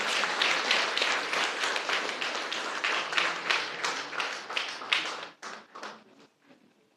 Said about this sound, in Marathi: आपण त्यांना एक जोराची थाप म्हणून जोरदार टाळ्या वाजवायच्या आहेत